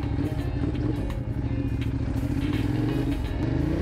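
A motorcycle engine running in road traffic alongside cars, a close, loud and steady droning hum with clear engine tones and some light clatter, continuing without a break and with no talking.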